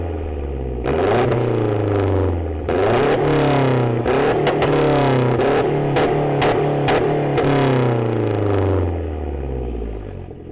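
Mazdaspeed 3 with a catless downpipe revving hard in a series of repeated throttle blips, loud and close, each rise in pitch followed by a drop, with a raspy, crackling exhaust note between pulls.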